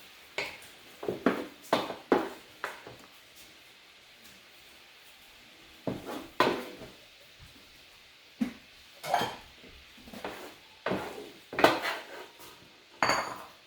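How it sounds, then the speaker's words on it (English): Cooked Mongolian beef and mushrooms are lifted out of a 14-inch Dash family-size skillet onto a plate, giving a series of close clinks and scrapes of utensil against pan and dish, in short bursts separated by brief pauses. "So you'll see I'm taking out all the meat and mushrooms."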